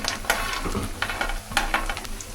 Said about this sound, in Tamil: வெங்காயமும் பூண்டும் நல்லா வதக்கும்